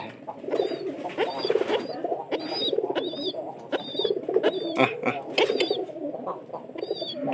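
Pigeons and their young coo and call nearby in quick overlapping bursts, with a few soft chirps and some wing flutters.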